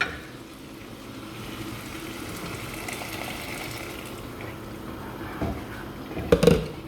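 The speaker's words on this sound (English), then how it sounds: "Now we'll add in our water." Boiling water streams into a pot of rice and prawn pulao, a continuous pouring rush that holds steady for several seconds before a few clinks and bumps near the end, with no talking.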